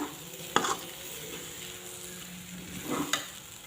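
Potatoes, cauliflower and carrots sizzle softly in hot oil, broken by two distinct scrapes of a spoon stirring the pan, close by and otherwise quiet.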